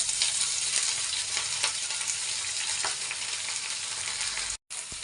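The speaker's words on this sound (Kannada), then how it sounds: "ಇದು ಒಂದು ಸ್ವಲ್ಪ ಫ್ರೈ ಆಗಬೇಕು." Fenugreek leaves fry in a pan for a gravy, giving a dense, even sizzle with a few sharp crackles, close and steady, cutting out briefly near the end.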